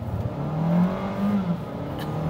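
A 2021 Kia Seltos SX with a dual-clutch transmission accelerates in sport mode, its engine droning and rising in pitch for a couple of seconds, close and fairly loud, with no talk.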